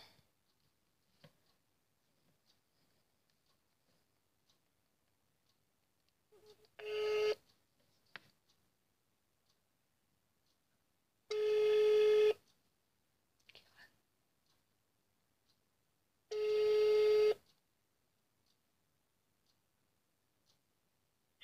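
A telephone call being placed: three long ringback tones spaced about five seconds apart, with soft clicks and faint whispering in the quiet gaps between rings.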